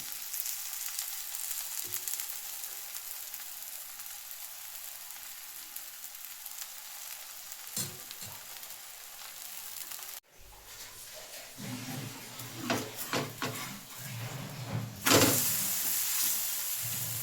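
Rice flour thalipeeth fries in oil on a pan, a soft continuous sizzle that swells louder in the second half with a few clicks and clatters.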